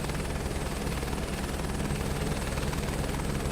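A helicopter in a flight simulator game gives a steady, even rotor and engine drone that holds at a constant moderate level throughout, with no talking.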